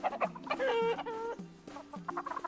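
Barnyard chickens cluck in the Planet Zoo video game, a few soft murmuring clucks and one drawn-out call heard faintly at a distance.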